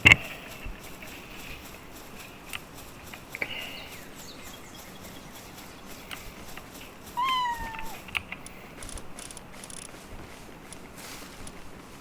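A cat-like creature in the video game Palworld gives a couple of faint meows, with a short rising cry near the middle, set over a low steady game background hum with no voices.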